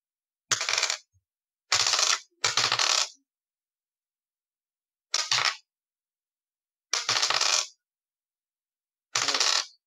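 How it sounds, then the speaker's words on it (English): Handfuls of dice rattle and clatter across a table during a tabletop game, in six sharp, bright bursts separated by silence. Each roll is close and clear. "That's a lot of dice."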